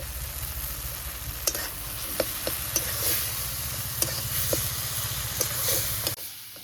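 Chillies, turmeric and salt sizzle in a pan while being stirred for a Bengali brinjal and bori dish, a loud steady frying hiss punctuated by sharp spatula taps against the metal, then suddenly cut off near the end.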